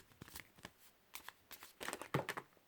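Tarot cards are shuffled in several quick, soft bursts of riffling and slapping, close and fairly quiet, with the last flurry the loudest.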